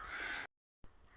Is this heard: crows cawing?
yes